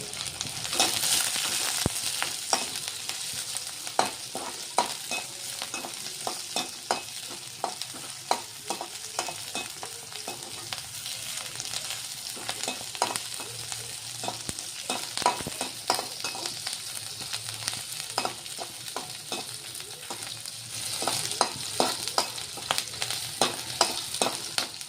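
Green chillies and garlic sizzle in hot oil in a pan, a constant crackling fry broken by the regular scrape and clack of stirring, close and steady throughout, with no talk.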